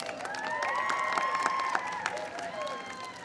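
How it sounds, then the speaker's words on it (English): An audience at a White House astronomy evening applauds steadily with a few cheers, moderately loud, while faint tonal sounds hover beneath the clapping. "Give them a round of applause."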